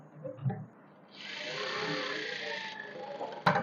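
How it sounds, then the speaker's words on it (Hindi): A sewing machine runs a steady stitching burst for about a second and a half while stitching the panels of a sharara, quiet and close, with a click at the end. "उसी तरह से हम अपने दूसरे आसन पर भी ऐसे ही सिलाई लगा लेंगे।"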